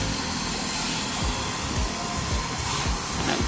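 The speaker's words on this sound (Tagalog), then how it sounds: "papa-vacuum natin." A vacuum cleaner works over the interior of a DA17V 4x2 Tiptronic vehicle during detailing. The motor drones loudly and steadily, with soft bumps as the nozzle moves about, and no one speaks.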